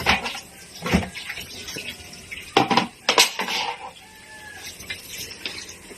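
A metal lid set down over a pot of chicken adobo on the stove: a few sharp clanks and knocks stand out clearly over a low simmering background, with no one talking.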